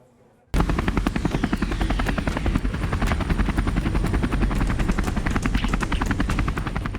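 An MH-60R Seahawk helicopter cuts in abruptly after a brief quiet moment, its rotor chopping in a fast, steady, loud rhythm over a constant engine whine that holds for several seconds.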